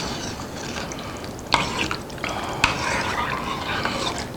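A spoon stirs beef soup in a pot, giving a soft continuous swishing with light bubbling underneath and two sharp clinks of metal against the pot's side.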